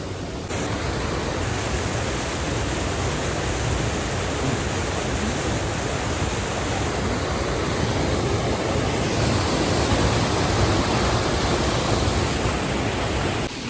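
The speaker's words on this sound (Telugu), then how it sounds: "ఇక్కడ 125 feet ఫాల్ అనమాట" A 125-foot waterfall in Vermont, heard as a steady, dense, even roar of falling water that fills the whole stretch without pause or change.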